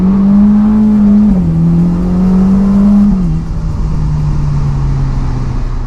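A Ferrari Portofino M V8 engine drones loudly and close, holding a steady pitch that drops slightly at each gear change across several seconds, with no voices.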